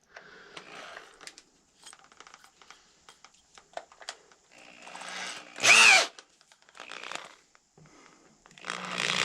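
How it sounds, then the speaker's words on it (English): Quiet handling clatter, then a short, loud burst of a power drill boring into horn for about a second before the noise drops away. "make sure your drill bit's tight in the chuck"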